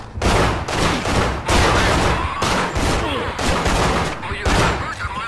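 Rapid bursts of gunfire in the video game Manhunt crackle in loud repeated volleys, separated by short gaps, with a voice talking over parts of it.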